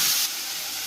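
Potatoes hit hot oil in a pan for sabudana khichdi, giving a bright, loud burst of sizzling hiss that drops after a moment to a steady, softer frying crackle with no talking.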